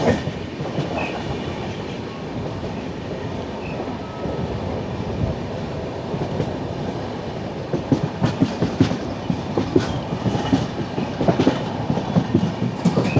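The 16315 Mysuru–Thiruvananthapuram North Express passenger train runs on rails with a loud, continuous rumble, and a rhythmic clickety-clack of wheels over rail joints grows sharper and more frequent toward the end.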